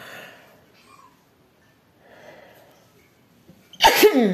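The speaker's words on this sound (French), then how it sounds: "J'avais tellement envie d'éternuer" A single loud, sharp sneeze bursts out near the end after stretches of quiet and soft breathing, close to the microphone.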